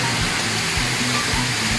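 A waterfall pouring in a park promenade setting, a dense, continuous broadband rush with faint low thumps throughout, loud and unbroken across the short stretch.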